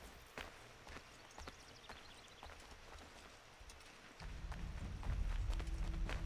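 Horse hooves in Assassin's Creed III beat in a quick irregular clatter, fairly faint at first, then a louder low rumble of galloping takes over in the last couple of seconds.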